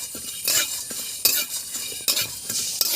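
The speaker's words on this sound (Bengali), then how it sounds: "তো আমি এগুলো সব কড়াই দিয়ে একটু নেড়ে নেব।" Bay leaves and peppercorns being stirred in a wok, with repeated scraping strokes of a spoon or spatula against the metal over a light sizzle, close up and without talk.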